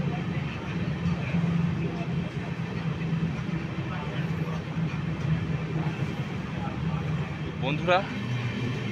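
An LHB-coach passenger train, the Kalka to Howrah Netaji Express, runs through Shaktigarh station, heard from onboard as a steady low rumble with rattling. Someone talks over it throughout.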